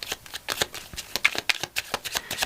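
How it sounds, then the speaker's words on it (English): Oracle cards from a divine doorway deck being shuffled by hand in a close, quiet riffle of rapid papery flicks and soft slaps, repeating steadily for a couple of seconds with no talking. "We're going to use our divine doorway oracle cards."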